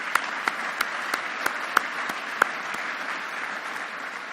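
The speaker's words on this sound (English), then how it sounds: "I'd like to give a round of applause to all the staff here" Steady audience applause at an awards ceremony, honouring the staff: dense, even clapping throughout with a few louder individual claps standing out near the front.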